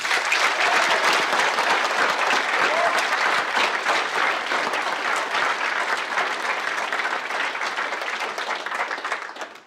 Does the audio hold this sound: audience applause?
yes